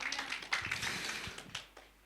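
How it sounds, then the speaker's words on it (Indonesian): A church congregation applauding, quiet scattered clapping with a few sharper claps standing out, fading toward the end. "Berikan tepuk tangan bagi Tuhan kita."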